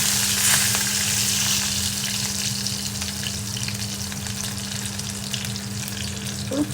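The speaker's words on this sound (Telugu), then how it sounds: "మంచిగా వేగనివ్వాలి లేకుంటే చేదొస్తుంది" Ivy gourd tamarind curry with split green chillies and fenugreek powder frying in a pan, a steady dense sizzle with occasional stirring clinks, close and continuous without talk.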